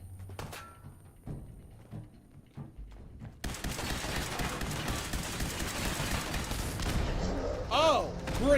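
Grenade explosions in the video game Fallout 4: a few scattered thuds at first, then a sudden loud, sustained roar of blasts and gunfire with whizzing effects that swells toward the end.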